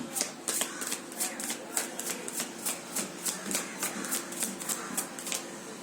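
Tarot cards shuffled by hand in a rapid, even riffle of crisp slaps, about three per second, close and continuous, with soft speech underneath.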